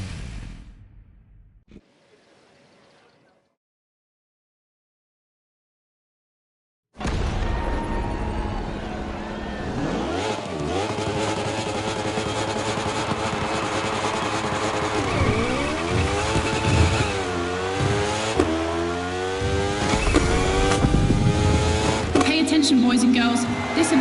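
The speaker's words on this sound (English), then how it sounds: "Now, time to unleash the moto racing power." Racing motorcycles tear through an event in The Crew Motorfest video game. After a near-silent opening, loud revving engines rise and fall in sweeping pitch with tire squeals, sustained and close for the rest of the stretch.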